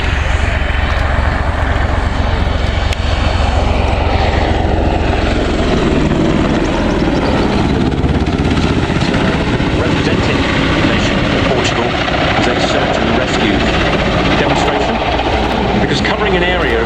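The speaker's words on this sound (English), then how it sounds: "now here's a familiar helicopter in unfamiliar colours, the Leonardo Merlin of the Portuguese Air Force" A Leonardo Merlin helicopter of the Portuguese Air Force flies at an air show, a loud continuous rotor and turbine roar that stays steady throughout, with a commentator talking over it.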